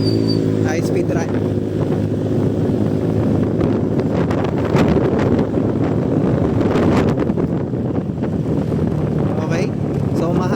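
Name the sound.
wind blowing into the phone microphone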